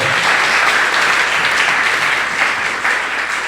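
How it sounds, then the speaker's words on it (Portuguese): A large church congregation claps loudly and steadily during a service, a dense wash of applause filling a big room without pause. "Vamos aplaudir Jesus em forte."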